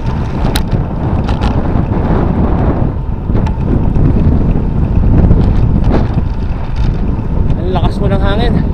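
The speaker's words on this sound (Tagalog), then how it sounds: "Ang lakas po ng hangin. Headwind." Strong headwind buffets motorcycle riders on an open road, a loud, continuous roar of wind battering the microphone with gusty surges, and a brief voice briefly heard near the end.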